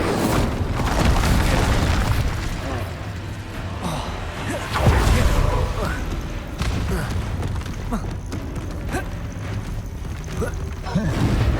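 An Incendio fire spell in Hogwarts Legacy erupts amid a continuous loud battle din of booms, thuds and whooshes, with a heavier blast partway through and voices shouting over it.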